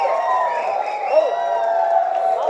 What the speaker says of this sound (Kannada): ಭರ್ಜರಿ ಚಪ್ಪಾಳೆ.